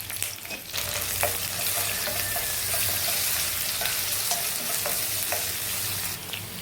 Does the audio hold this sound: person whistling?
no